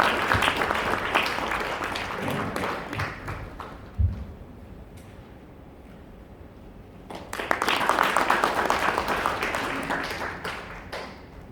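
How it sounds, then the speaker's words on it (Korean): Audience applause fills a hall at a children's welfare association's 70th anniversary ceremony, dense clapping that dips midway with a thump, then rises again strongly before fading. "부모님 앞으로 나오실 때 큰 박수로 맞아주시면 감사하겠습니다"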